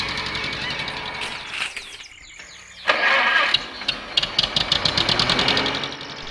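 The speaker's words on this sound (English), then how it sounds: "I love the sound of a well-tuned tractor" Tractor engine cranking and starting, then settling into a rhythmic, knocking idle that sounds close and fairly loud.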